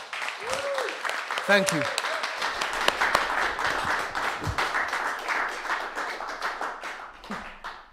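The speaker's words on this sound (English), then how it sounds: "give him a round of applause" A live crowd claps and applauds steadily for a late man, John Collier, known as Cooler Bar, being remembered at a Father's Day event; a few voices speak over the dense clapping.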